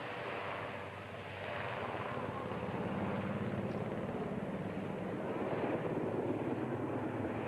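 Kaman Seasprite helicopters of the Royal New Zealand Navy fly in trail formation at the Warbirds Over Wanaka 2006 air show, a steady distant rotor and engine drone rising slightly after the first second and holding on.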